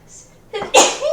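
A single sharp, close sneeze bursts out after a brief quiet intake, loud and sudden indoors.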